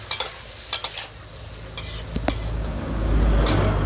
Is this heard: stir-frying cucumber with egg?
yes